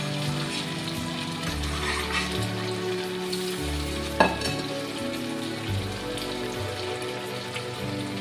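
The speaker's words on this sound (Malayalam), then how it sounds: "ചീമച്ചക്ക ഇട്ട് കൊടുക്കാം" Chopped breadfruit cooking in a pan for Kerala-style thoran, giving a steady, close sizzle and crackle with a few soft stirring scrapes throughout and one brief sharper knock partway through.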